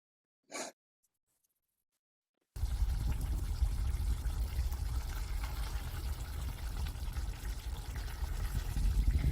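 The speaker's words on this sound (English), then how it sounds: "You hear the bubbling of the curry, I hope." After a brief breath and a few seconds of silence, a low, continuous bubbling and simmering of curry in a pot starts up and carries on steadily to the end.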